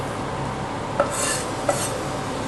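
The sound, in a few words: stirring coriander into food in a pot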